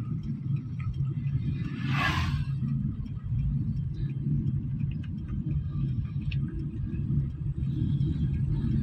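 A car creeps along slowly in third gear with light throttle during a driving lesson, producing a low, steady engine and road rumble throughout, with one brief brighter swish near the start and no talk.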